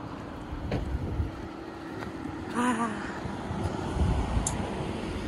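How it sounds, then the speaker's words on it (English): Hot, 97-degree wind blowing outdoors on a trail in Sedona, Arizona, heard as a steady, close low rumble buffeting the microphone throughout, with a brief voice sounding faintly partway through. "At least there's a wind."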